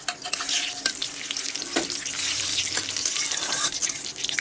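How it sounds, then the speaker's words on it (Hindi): Cumin seeds and bay leaves crackle in hot refined oil, a dense close sizzle with scattered pops and occasional stirring clicks, fairly steady throughout and without speech. "तो गाइस हमारा रिफाइन तेल गर्म हो गया है, इसमें सबसे पहले हम लोग डालेंगे जीरा।"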